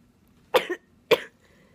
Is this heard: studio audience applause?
no